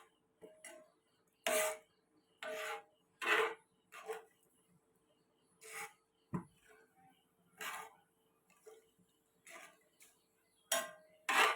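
A spoon stirring salt into cooked lentils in a pot, producing soft irregular scraping bursts and light clinks spaced about a second apart, quiet and close, with no talk.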